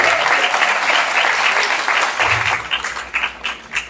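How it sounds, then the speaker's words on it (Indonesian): A hall full of people at a junior and senior high school graduation bursts into loud, dense applause that thins into scattered claps toward the end. "Tepuk tangan untuk capaian kalian."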